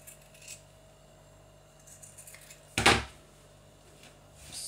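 A single sharp snip of scissors cutting fabric for a cloth sanitary pad, one brief crisp burst in an otherwise quiet room.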